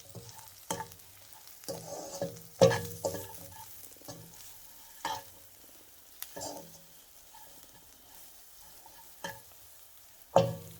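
Millet noodles tossed with Maggi masala fry in hot oil, with a steady low sizzle and repeated stirring scrapes and clanks of a utensil against the pan, moderately close, with no talk.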